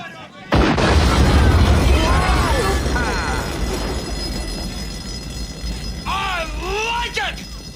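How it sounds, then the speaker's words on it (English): Cobra assault cannon in Far Cry 3 Blood Dragon fires a single heavy booming shot, then a long rumbling tail with sci-fi whines and chirps, while someone talks over it. "Cobra assault cannon, state of the art, bang bang."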